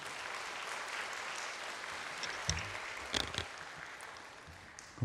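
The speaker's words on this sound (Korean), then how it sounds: "박수로 모시겠습니다." A church congregation applauds to welcome a visiting pastor to the pulpit, a steady wash of clapping from a crowd that stays even throughout, with a few sharper claps standing out near the end.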